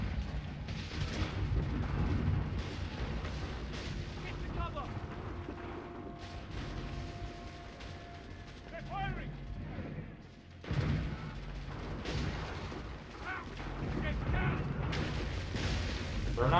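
Ships fire cannons in Assassin's Creed 3, with heavy booms and crashes breaking through a busy game soundscape, some blasts clustered and others spaced apart, while a voice talks over parts of it.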